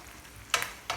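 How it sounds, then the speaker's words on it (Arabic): Eggplant stuffed with date mussels fries in oil, a quiet, steady sizzle with two quick scraping stirs of a utensil in the pan, close by. "كنخليهم يتشحروا واحد ثلث ساعه تقريبا"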